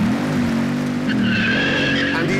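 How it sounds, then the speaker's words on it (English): A Bugatti Super Sport launches hard off the line, its engine roaring loud and close as all four tyres squeal and smoke in a continuous skid. "just look how fast that thing fires off the line, smoking all 4 tyres"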